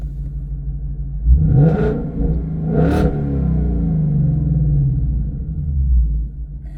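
A Ford Mustang Dark Horse fitted with a Corsa Xtreme exhaust, set to sport mode, blips twice in quick succession with sharp, loud revs, then settles into a deep, burbling idle rumble up close.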